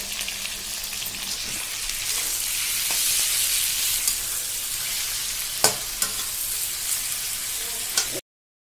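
Bhetki fish bones and tomato frying in a pan, a dense steady sizzle much like rain, broken by a few sharp utensil taps, with no speech before it cuts off.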